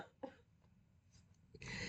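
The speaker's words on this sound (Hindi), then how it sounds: "सॉरी मुझे खांसी अभी भी है थोड़ी थोड़ी।" A couple of short, rough coughs bursting out over a low background hum, the last one louder and trailing off.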